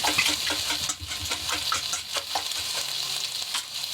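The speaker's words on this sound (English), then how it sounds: "And whisk them together." Eggs with orange yolks are whisked together in a bowl, a busy, quick clatter of stirring strokes, close and steady throughout, with no talk.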